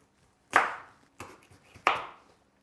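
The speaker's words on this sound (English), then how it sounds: "get your parsnips and cut them into quarters" A knife cuts parsnips lengthways into quarters, striking the chopping board three times. The chops are sharp and close, the first and last the loudest, with short pauses between them and no talking.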